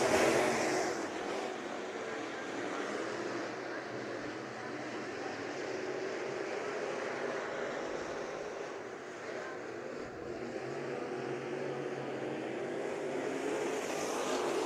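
Race cars at Bakersfield Speedway during the Budweiser Nationals roar around the track as a group, a steady, loud wash of engine noise that holds throughout with no clear breaks.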